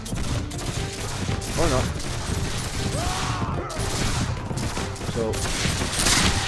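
Volleys of gunfire in the video game Mount & Blade With Fire and Sword, dense and steady throughout, with someone talking over the shooting.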